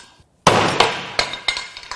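Sharp metallic strikes ring out from a hammer on a Ford 3.7 Cyclone V6 engine part, one loud blow followed by several lighter taps at irregular intervals, close and clanging.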